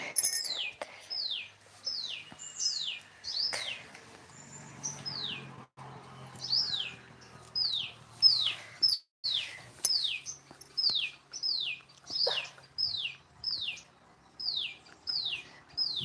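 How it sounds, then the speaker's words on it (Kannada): Birds chirp outdoors around a flowering cashew tree in a lively repeated pattern, sharp downward-sweeping calls coming every half second or so, with a few fainter calls in the background. "ಪಕ್ಷಿಗಳು ಎಷ್ಟು ಚೆನ್ನಾಗಿ ಕೂಗ್ತಾ ಇದೆ ಅಂತ"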